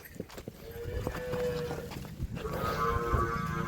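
Buffalo brought to water to drink, with shuffling hooves, splashes and a few low calls from the animals, close and mid-distance, amid light farmyard background noise.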